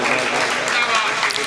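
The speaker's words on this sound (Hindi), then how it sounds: "आप सब लोग तालियों से जरा शामिल हो जाएं इस इस्तकबाल में।" Clapping from the crowd at a mushaira poetry gathering, a brief burst of applause heard with a voice speaking over it.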